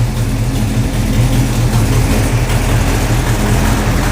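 A 1969 Plymouth Barracuda's neglected V8 idles steadily nearby, a loud, low, lumpy rumble with constant throb and no talk over it.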